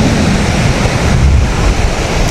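Strong sea waves roll onto a beach in Boracay, a loud, steady wash of surf with heavy wind rumble on the microphone and no talk.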